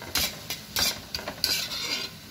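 Tawa pav bhaji being sautéed on a griddle with a spatula: quiet sizzling under several short scraping and stirring strokes in an irregular rhythm.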